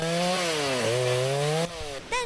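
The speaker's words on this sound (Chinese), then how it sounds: "抢修人员拿着电锯把树木锯开" A chainsaw cutting through a large tree blown down by typhoon winds on the Alishan highway in Chiayi, a loud close engine whine shifting pitch under load, then a brief drop and rev.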